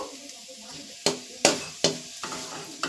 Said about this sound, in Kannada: ಸಾಸಿವೆ ಜೀರಿಗೆ ಚಟಪಟ ಅನ್ನಬೇಕು